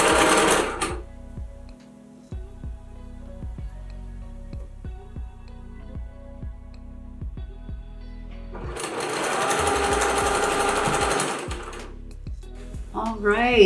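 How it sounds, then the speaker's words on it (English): A sewing machine stitches the final stretch of a blouse seam with elastic between the fabric layers, running in a steady whirring burst midway after quieter moments with scattered ticks and light handling sounds, close and fairly loud. "lower that presser foot and we'll finish up this seam"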